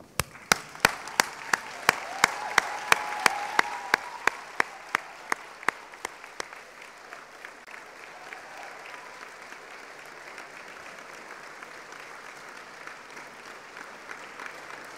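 Graduates at a university graduation ceremony applaud their parents and friends; a full crowd claps with sharp, evenly spaced claps standing out for several seconds, then thins into softer, scattered clapping that fades.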